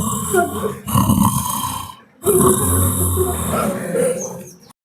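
A voice imitates loud snoring inside the stone gateway of Chitradurga fort, rough rasping breaths ringing with echo off the walls, two long bursts broken by a brief pause.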